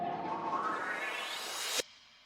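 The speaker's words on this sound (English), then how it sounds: "So here's the riser that the original producer put in." A rising noisy sweep climbs in pitch and intensity for nearly two seconds, cuts off sharply, then a faint reverb tail lingers and fades.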